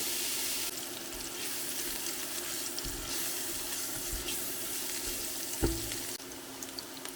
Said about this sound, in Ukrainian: Потім цибулю підсмажую до золотистого кольору.